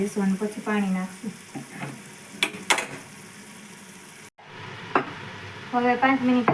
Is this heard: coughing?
no